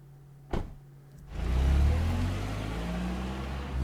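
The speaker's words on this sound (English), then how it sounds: "very realistic car noise. It's like someone's really driving away from me" In a Japanese cartoon, a sharp click is followed by a cartoon car starting up and pulling away, a rumbling engine swelling loudly then holding a steady, slightly receding drone.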